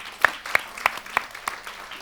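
A conference audience applauds in a short burst of about five spaced, sharp claps, near and moderately loud.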